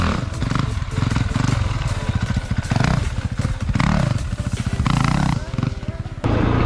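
A dirt bike engine held at low revs through a slow wheelie, throbbing loudly and close with a steady pulsing rumble that swells and eases as the throttle is worked, cutting off briefly near the end.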